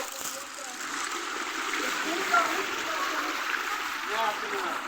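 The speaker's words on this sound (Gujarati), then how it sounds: "અને અહીંયાથી ઝરણું વહી રહ્યું છે. સરસ પહાડમાંથી આવે છે મિત્રો આ અહીંયા ઝરણું." A perennial mountain stream flows down from the hills near the Koteshwar Mahadev temple, making a steady, close rushing and gurgling sound that continues without a break.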